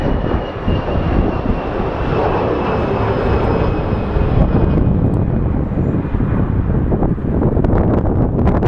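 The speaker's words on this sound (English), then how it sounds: "Such a tiny plane, look at this thing." A small airplane at Sky Harbor Airport gives a steady, loud engine drone that holds throughout, mixed with constant outdoor wind noise and no talking.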